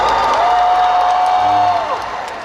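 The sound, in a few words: audience applause and cheering for actor Lee Byung-hun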